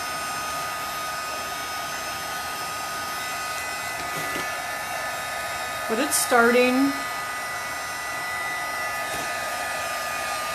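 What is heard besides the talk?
hair dryer drying crackle paint on pumpkin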